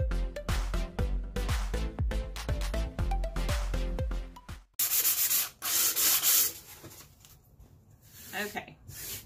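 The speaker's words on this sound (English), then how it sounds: "I'm just going to take it and sand down all of these rough edges" After a stretch of plucked music, close, scratchy back-and-forth rubbing of 220 grit sandpaper smooths rough edges on a Dollar Tree farmhouse-style wall decor piece.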